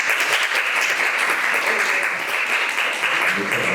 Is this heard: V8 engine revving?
no